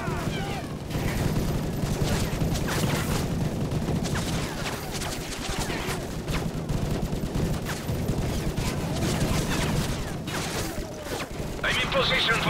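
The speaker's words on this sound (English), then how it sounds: "Yuri, use the remote gun to take out those pests. Lay down covering fire so we can move up the road." A remote gun fires continuous rapid bursts in the video game Call of Duty MW3, loud and dense with booming impacts and crashes mixed in, with a voice speaking over the gunfire.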